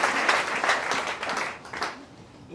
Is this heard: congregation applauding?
yes